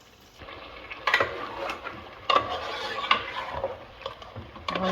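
Meat with onions is stirred in a cooking pot for a meat roast with mung dal. Close, irregular metallic scrapes and clinks sound at intervals over a faint background.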